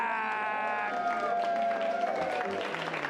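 Audience clapping and cheering at an improv comedy show, rising under a lingering sustained tone and continuing as a moderate, steady round of applause with some scattered whoops.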